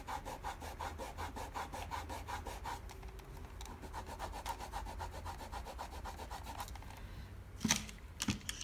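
Sticker residue slowly rubbed off electronics, a steady run of quick, even scrubbing strokes, close and fairly soft, ending with a few sharper scrapes.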